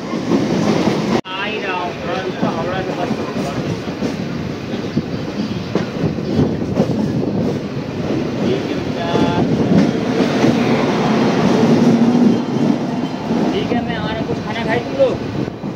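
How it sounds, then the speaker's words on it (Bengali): The Howrah Amritsar Mail rolls past alongside a moving train near the Howrah car shed, a continuous close rumble with clickety-clack of wheels over rail joints, while people talk nearby. "আর পাশ দিয়ে আমাদের চলে যাচ্ছে হাওড়া অমৃতসর মেল"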